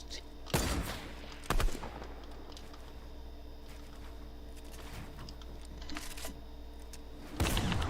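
Video game gunfire from an AR and a sniper rifle: a few sharp, separate shots spaced several seconds apart against a low, steady background hum, with a final burst at the end.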